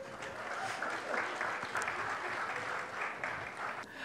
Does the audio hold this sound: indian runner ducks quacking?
no